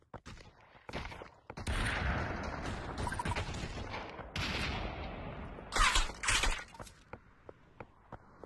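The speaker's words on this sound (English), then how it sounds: "shooting rocket launchers." Rocket launchers firing in the virtual reality shooter Population One, a chaotic run of loud blasts and explosive bursts packed together, with crackling debris and a final pair of sharp booms before quieter scattered hits.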